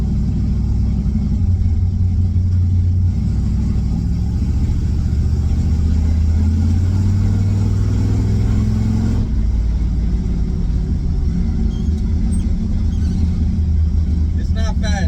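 A truck engine runs with a steady low rumble that swells and eases as it is revved, loud and close throughout, with people talking over it.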